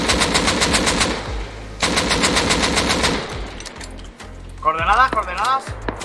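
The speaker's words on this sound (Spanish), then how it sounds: "Le disparó un semi a ellos." Rapid gunfire from a semi-automatic rifle in the survival game Rust: two dense, loud bursts of quick shots, then quieter rattling and a tonal, voice-like sound near the end.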